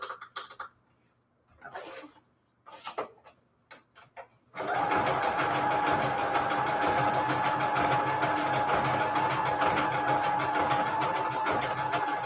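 A sewing machine stitches paper strips with a triangle leg stitch at its longest, widest setting, running as a steady, loud mechanical whir after a few seconds of quieter handling noises and a brief cough.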